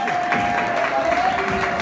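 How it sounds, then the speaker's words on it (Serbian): An awards-show audience claps steadily for pop star Nataša Bekvalac, a dense, moderately loud patter of applause that runs throughout with a faint tone beneath. "pozivamo vas da aplauzom pozdravite pop zvezdu Natašu Bekvalac"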